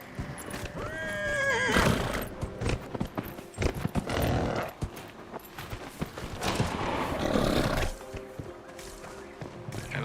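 A horse whinnies loudly in Dragon Age Inquisition, with a falling high-pitched cry near the start, followed by hoof clip-clops and thuds that rise and fall across the scene without speech.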